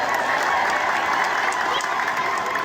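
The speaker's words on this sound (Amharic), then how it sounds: "ይሄም ጭብጨባ ዝም ብሎ አይደለም።" Dense, continuous clapping from an audience at a church gathering, with some cheering mixed in, steady and loud throughout.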